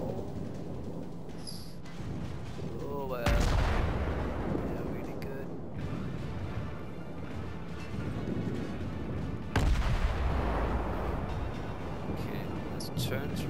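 Naval gunfire from ships in the World of Warships video game, two heavy booming salvos with rumbling tails, loud and near, while someone talks throughout.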